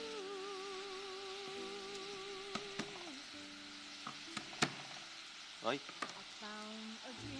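Onion and ground beef sizzle in a hot pan with garlic about to go in, a steady frying hiss with a few clinks and scrapes of stirring, while someone talks and background music plays.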